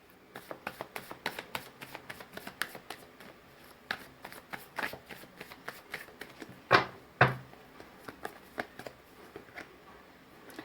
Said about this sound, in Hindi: अब चलिए दूसरा कार्ड निकालते हैं।